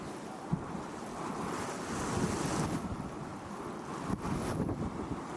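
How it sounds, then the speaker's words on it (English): Steady gusting wind at Kubu Island in the Botswana pans, roaring against the microphone, a broad low rumble with occasional buffeting bursts, continuous throughout. "And this wind carries on right through till morning"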